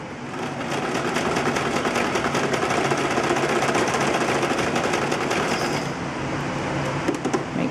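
A sewing machine runs a zigzag stitch along quilted fabric, a rapid, steady, close mechanical chatter that holds for several seconds and then slows into a few separate clicks.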